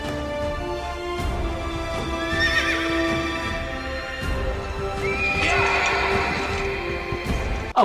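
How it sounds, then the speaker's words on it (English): A horse in a film gallops with a rhythmic clip-clop of hooves, broken by two loud whinnies, all close and clear with no speech. "in slow motion that horse is galloping, and Val gets on top of that horse with guns"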